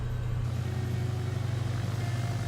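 Small single-engine airplane idling and rolling toward the runway on a first solo flight, a steady low engine drone with a throbbing pulse, close and continuous.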